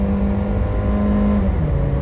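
Honda Fit 1.4 engine held at high revs, a loud droning hum with steady tonal harmonics that dips slightly in pitch toward the end, heard close from inside the car with no talking.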